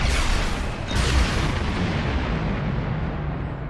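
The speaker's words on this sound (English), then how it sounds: "could be massive explosion" A massive explosion in the space game Star Trek Online bursts with a loud, booming blast, a second surge close behind, then a rumbling roar that slowly fades.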